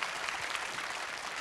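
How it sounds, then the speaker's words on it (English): A steady wash of applause from a crowd at an esports tournament grand final, continuous clapping throughout at moderate volume. "Let's have a round of applause for Zoe."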